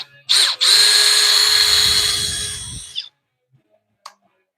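A power drill driving screws into clamped wood joints during construction work gives one loud, steady whirring burst of about three seconds that spins down and stops, followed by a few faint clicks.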